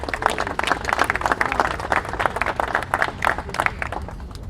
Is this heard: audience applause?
yes